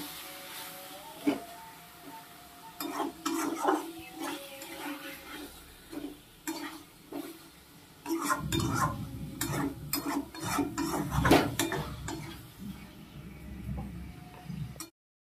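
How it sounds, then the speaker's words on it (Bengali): Chhana (cottage cheese) being stir-fried in a pan for a Bengali chana aloo potol dish gives irregular spoon scrapes and clicks against the pan, quieter at first and then a denser, louder stretch of stirring. "ছানাটা দিয়ে ভালো করে কষিয়ে নেব"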